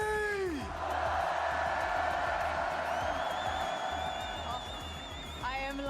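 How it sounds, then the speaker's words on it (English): Large arena crowd at the Fortnite Global Championship roaring and cheering in a continuous wash, with a commentator speaking over it and occasional tonal game effects. "I mean, guys, come on. This crowd is insane."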